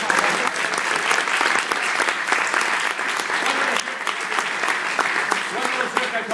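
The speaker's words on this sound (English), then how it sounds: "Applause anytime it's fine." A live audience claps steadily and loudly during a juggling act with loaded rat traps. Dense applause runs the whole time, with voices mixed in underneath.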